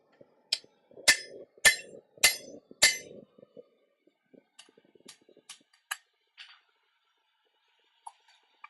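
Five loud, ringing hammer blows drive a drift through hot iron in a smithy, followed by several lighter, scattered taps and clinks, with no talking.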